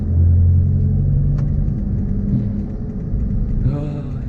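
A car engine rumbles deep and close as the car sets off, its low growl shifting in pitch with a brief rise in revs near the end.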